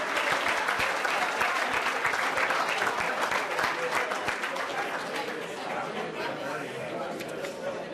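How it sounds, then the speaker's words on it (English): A banquet audience at a high school fall sports banquet for football, cheer and the Emeralds dance team applauds steadily, dense sustained clapping with crowd chatter throughout, gradually easing slightly toward the end. "How about a round of applause for your undefeated St."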